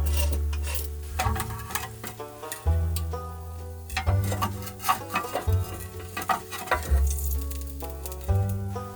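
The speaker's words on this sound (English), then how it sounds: "So we kind of got this old beef tallow. I'm gonna throw a little bit in here, see what happens." Old beef tallow in a pan in a cold scrap shed, with bright crackling sizzle and sputter over a low rumbling hum, plus a few clinks and scrapes of the pan, close up.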